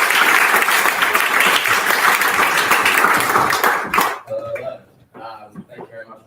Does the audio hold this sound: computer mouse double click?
no